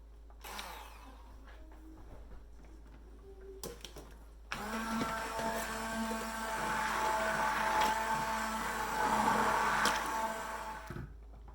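A kitchen blender roars into action after a few brief clicks and handling knocks, then runs steadily with a whirring motor tone that rises a little before cutting off near the end; no voices.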